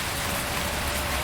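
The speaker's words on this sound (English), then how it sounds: "Oh Jesus, the rain is loud." Loud, steady rain pours across a video game scene, a dense hiss with a low rumble that continues unbroken throughout.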